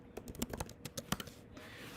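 Quick bursts of computer keyboard typing, a dozen or so sharp key clicks in uneven rhythm, fairly quiet and close, then a brief pause with soft background noise.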